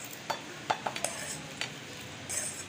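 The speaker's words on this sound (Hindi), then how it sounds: "अब हम इसे अच्छे से फेंट लेंगे" Fried potatoes are beaten into an egg mixture for an aloo anda paratha, a few light utensil clinks and scrapes against a bowl sounding close and sparse over quiet background.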